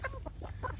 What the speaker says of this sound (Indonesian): ini ada juga jago yang besar sekali ini sebenarnya ya